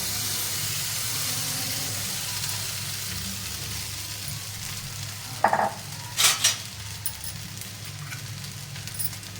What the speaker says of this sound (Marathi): आता इथे आपण साबुदाणा घालून घेऊया